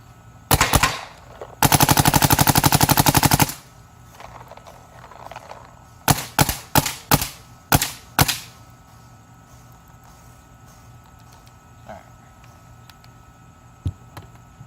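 A G-Tech paintball marker fires outdoors: a couple of single pops, then a fast sustained burst of sharp shots, followed by several spaced single shots and a few faint distant pops, loud and crisp.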